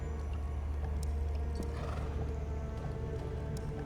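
Horse in The Black Grimoire: Cursebreaker fantasy game, with a neigh and clip-clopping hooves over a steady ambient game backdrop, moderately quiet and without speech.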